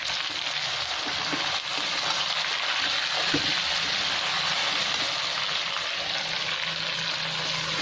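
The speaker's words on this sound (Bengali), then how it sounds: "এবার আমি মেখে রাখা চিকেনগুলো সব তুলে দিলাম" Marinated chicken pieces sizzle and fry steadily in a pan with fried onions, a loud continuous crackle with a few soft stirring knocks, no talking.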